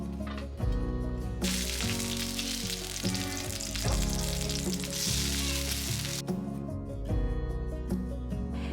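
An egg fries in a pan, giving a steady bright sizzle and crackle that runs close and continuous throughout, with a few soft stirs or shifts and no talking.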